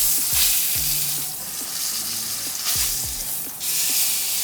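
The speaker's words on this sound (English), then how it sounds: "sometimes they go like this, and they sear all the corners" A steak sears in a cast iron pan, its edges pressed to the hot surface, producing a loud continuous sizzle with low thumps and shifting surges as the meat is moved.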